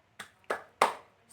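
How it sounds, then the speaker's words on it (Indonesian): A 'tepuk semangat' hand-clapping rhythm done by a teacher in an elementary school lesson: three sharp, close claps, evenly spaced and rising slightly in strength, in an otherwise quiet room. "Ibu ada tepuk semangat buat kalian biar tambah semangat"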